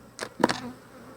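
Bees around an open Flow Hive beehive give two brief, close buzzing passes in quick succession, then a faint background hum.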